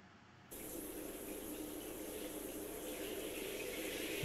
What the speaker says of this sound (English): Now she's having a shower.